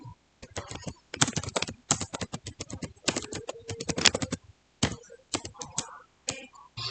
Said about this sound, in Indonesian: ketik perintah show MAC address table dan tekan enter